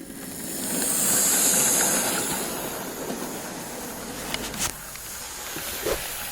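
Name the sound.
Hornby BR King Class model locomotive King Edward II running on track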